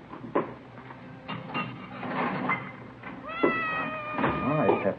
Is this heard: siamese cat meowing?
yes